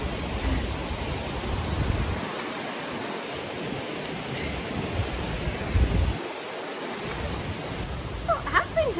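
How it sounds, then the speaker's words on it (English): Steady broadband rushing of a swollen river after rain on the Amalfi Coast, continuous throughout with no voices. "you can hear the river still pouring down there"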